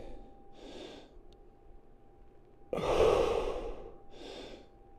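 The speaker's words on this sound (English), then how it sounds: "Take a couple of breaths into your belly." Slow, deep belly breaths taken during a floor workout in a prone position, with a few soft airy inhales and exhales and one louder, fuller breath in the middle, close and quiet with no talking.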